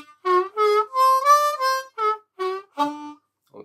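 Harmonica arpeggio played as separate held notes: a bent 3 draw, then 4 blow and 4 draw, about eight clear reedy tones in a steady rising and falling sequence, close and solo with no talking.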